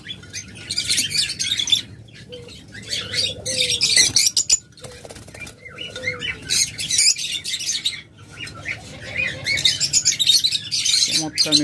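Pet lovebirds, budgerigars and cockatiels chirp constantly at a crowded bird market, with dense bright twittering in bursts, a few cooing doves below and occasional wing flaps.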